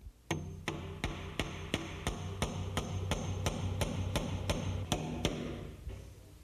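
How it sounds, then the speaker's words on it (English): A hammer drives finish nails into a door frame while a door is hung, about a dozen sharp, evenly spaced blows close by in a quiet room. "And then nail it up."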